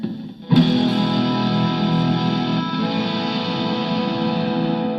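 An electric guitar rings out with a crunchy overdriven tone after a brief pause, sustaining steadily with chorus-like shimmer and echo.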